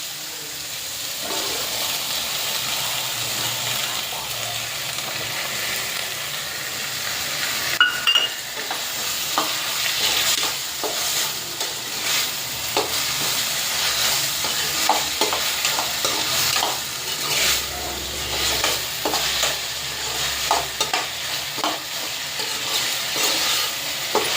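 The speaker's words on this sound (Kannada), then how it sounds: "ಈರುಳ್ಳಿ ಫ್ರೈ ಆಗಿದೆ. ಇವಾಗ ಶುಂಠಿ ಬೆಳ್ಳುಳ್ಳಿ ಪೇಸ್ಟ್ ಹಾಕ್ಕೊಬೇಕು ಫ್ರೆಂಡ್ಸ್." Onions fry with ginger-garlic paste in a pan while a spoon stirs and scrapes them, giving a continuous sizzle with repeated scraping strokes and a sharp clank near the middle. The sound is up close, with no talking, as part of a paneer gravy being cooked.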